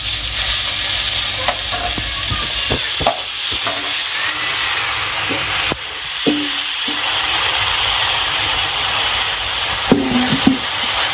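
Mustard seeds frying in a pan for a home-cooked Bengali dish, a steady close sizzle with occasional stirring scrapes and light pops throughout, no talking.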